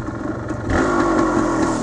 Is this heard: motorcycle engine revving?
yes